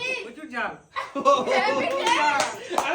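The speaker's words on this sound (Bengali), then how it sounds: "জোরে হাততালি দাও" Audience hand clapping at a chili powder and sweet yogurt eating challenge, bursts of applause mixed with chatter and a little laughter, with people talking over it throughout.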